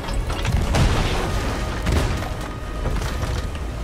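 Gunfire in Sea of Thieves during a stormy battle: several heavy booming shots crack out close and loud over a dense roar of wind and rain, with no clear talking.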